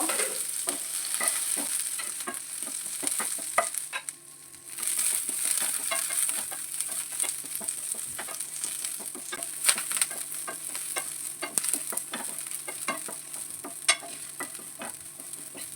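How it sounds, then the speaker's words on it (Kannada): Chicken pepper dry with garlic fries in a pan, a continuous close sizzle broken by frequent scraping stirs and a brief quieter lull partway through. "ಇದರಲ್ಲಿ ಸರಿ ಫ್ರೈ ಮಾಡಬೇಕು ಇದನ್ನು ಸ್ವಲ್ಪ ಚಂದ ಫ್ರೈ ಆಗಬೇಕು"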